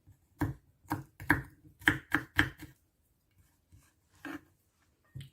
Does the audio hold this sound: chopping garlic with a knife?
yes